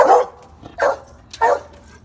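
A dog barks on command during a handler engagement, three separate close, loud barks spaced about half a second to a second apart.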